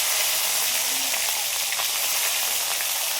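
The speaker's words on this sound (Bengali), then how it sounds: "এবার মাছগুলো ভেজে নেব" Rohu fish pieces fry in smoking-hot oil in a karahi, giving a steady, dense sizzling hiss throughout, close and uninterrupted, with no talking.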